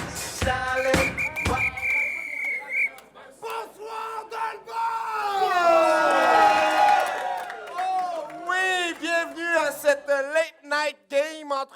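An audience at an improv match cheers, yells and whoops loudly and without a break, with rising and falling shouted calls over a steady crowd roar, and a raised voice cutting through near the start.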